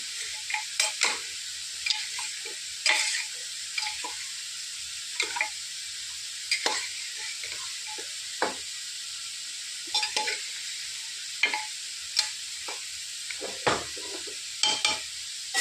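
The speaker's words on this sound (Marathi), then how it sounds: "आता एक खाली वर करून घ्यायचं" Mutton masala fries in a pan as it is turned over, a quiet, even sizzle punctuated by regular clanks and scrapes of the stirring spoon, close and unaccompanied by talk.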